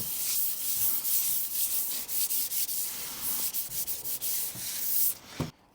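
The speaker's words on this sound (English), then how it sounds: "You can fold your sanding pad in half and just work gently through each of these grooves." Hand sanding an IKEA TINGBY side table with a sanding pad, a dry scratchy rubbing in quick back-and-forth strokes, close and steady, ending with a light knock.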